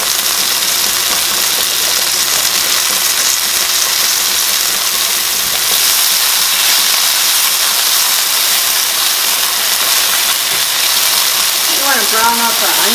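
Onion browning in oil in a pan over high heat, a steady loud broadband sizzle and hiss that runs unbroken throughout, with a brief voice near the end.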